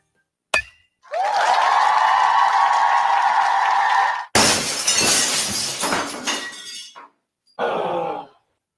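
A car window or windshield breaks: a sharp impact, a long bright ringing tone, then a loud crash of shattering glass and scattering shards, followed by a final short burst.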